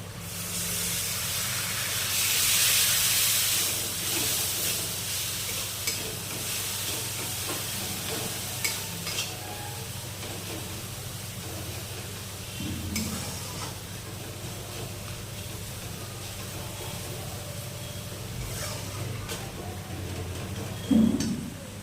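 Spice paste with garam masala and a splash of water sautés in a pan for an egg and potato curry, a low hissing sizzle punctuated by occasional scraping stirs and a brief louder burst of steam early on.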